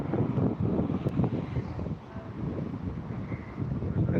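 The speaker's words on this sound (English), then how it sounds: "It's getting a bit more breezy as well" A steady breeze buffets the microphone on a quiet high street, a continuous low rumbling roar of wind noise with gusty swells and no speech.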